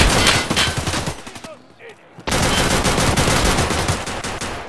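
Gunfire in an Escape from Tarkov arena match, with rounds striking a helmet. Loud, close bursts of rapid shots fill the clip, break off into a short quiet gap, then resume just as densely.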